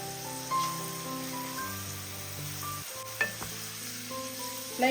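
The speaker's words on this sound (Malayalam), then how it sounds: "മീഡിയം ഫ്ലെയിമിലിട്ടിട്ട് വേണം ഇതൊന്ന് റോസ്റ്റ് ചെയ്തെടുക്കാൻ" Home-dried green grapes roasting as raisins in hot oil over a medium flame, a soft steady sizzle and crackle with occasional stirring clinks, no speech.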